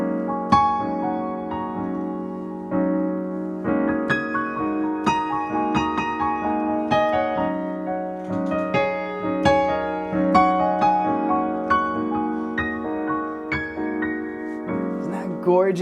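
Piano played only on the black keys with a harmony technique, layering sustained chords under a melody of repeated higher notes, an unhurried steady rhythm, close and clear with no talking.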